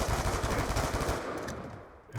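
Rapid automatic gunfire in a video game, a dense continuous burst of loud shots that thins out toward the end, with no talk over it.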